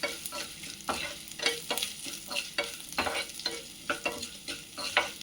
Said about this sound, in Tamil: நல்லா லைட்டாக ப்ரௌனாக கலரி விடணும்